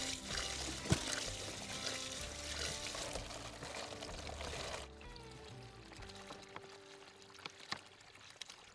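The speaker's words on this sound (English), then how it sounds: "This spring, which is coming out of the side of the hill, provides me with water year-round" Spring water running out of a hillside in the Alaskan wilderness, a steady pouring trickle that is fuller at first, then thins to a quieter stream with small drips and splashes.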